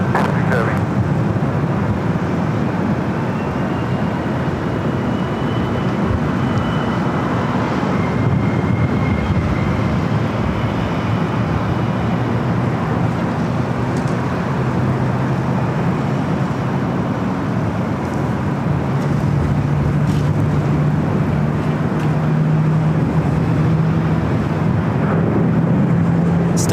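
A 22-year-old Boeing 757-300 airliner at LAX, its engines giving a steady, loud, broad roar with a low drone that holds throughout, mixed with distant airport traffic.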